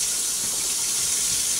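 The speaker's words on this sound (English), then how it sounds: "Run your water till it gets nice and hot." A kitchen sink tap runs at full flow while a cast iron pan waits to be washed, giving a steady, close hiss of water with no pauses and no talk.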